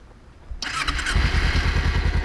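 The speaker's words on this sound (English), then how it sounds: "Now that we have the bike on, we have the bike running" Motorcycle started in neutral with the clutch pulled in: a brief starter whir, then the engine catches and settles into a loud, steady close-up idle.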